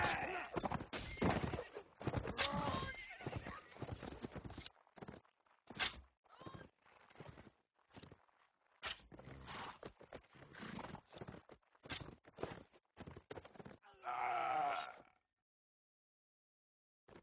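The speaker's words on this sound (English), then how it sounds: "Oh, they're killing my saddle horse." A saddle horse in a video game clip-clops on its hooves in quick, rapid bursts, then lets out a shrill neigh near the end, everything close and dry before the sound cuts to silence.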